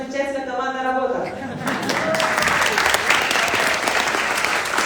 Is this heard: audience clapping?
yes